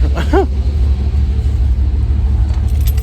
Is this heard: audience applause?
no